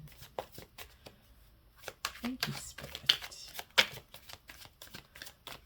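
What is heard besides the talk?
shuffling tarot cards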